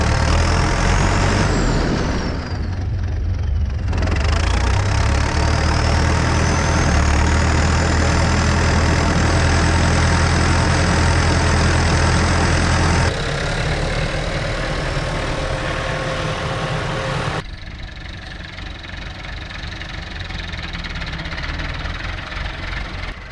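A tractor engine runs with a seed drill attached on a farm, a loud continuous diesel rumble that dips briefly, holds steady, then drops to a quieter idle near the end, with no talk.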